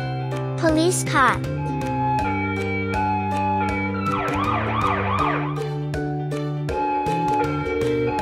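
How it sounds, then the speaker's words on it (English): A police car siren wailing in rising and falling sweeps amid a busy, tonal mix of music and effects, fairly loud and continuous throughout. "Police car."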